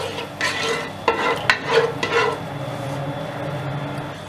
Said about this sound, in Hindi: दालचीनी डालेंगे, लौंग डालेंगे, इसको पकाएंगे थोड़ा।